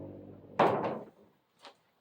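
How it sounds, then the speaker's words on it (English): The wooden door of an antique 1875 knock-down armoire swings and closes with a solid thunk, followed by a soft knock and a faint click, close and alone. "you end up with a door that swings smoothly, closes flat"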